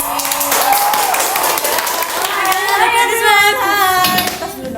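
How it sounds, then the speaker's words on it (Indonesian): A studio audience applauds a former student council president from SMPN 2 Bojonegoro at a school talk show. Dense, steady clapping fills the stretch, with voices rising faintly over it toward the end. "Tepuk tangan dulu dong meskipun di rumah masing-masing."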